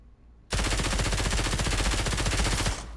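A Vector SMG in the VR shooter Pavlov VR fires one continuous loud burst of rapid automatic fire lasting a little over two seconds, then stops abruptly.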